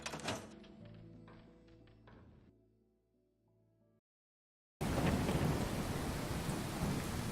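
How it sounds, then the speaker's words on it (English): Heavy rain from a thunderstorm pours down after a few seconds of quiet, a dense loud hiss of downpour with rumbling underneath, falling through holes in a roof. "I don't appreciate getting soaked in my sleep through the holes in the roof, but this storm might actually prove useful"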